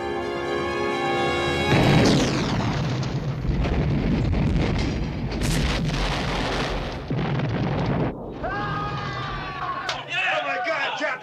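A torpedo blast tears off a destroyer's bow, a sudden loud explosion followed by several seconds of churning, rumbling debris and roar that fades into lighter rattles, with voices speaking near the end.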